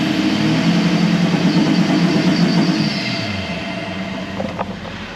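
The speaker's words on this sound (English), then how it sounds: "I don't know if you can hear that out the back. That's lumpy idle." Toyota Landcruiser 200 Series running a lumpy idle tune on its factory ECU, a loud, uneven low engine rumble heard from behind the vehicle, fading slightly toward the end with some wind noise.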